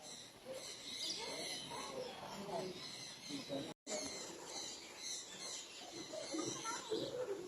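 Birds cooing at a bird park in Taif, soft repeated calls spread through the scene beneath steady talking, with a brief cut to silence midway.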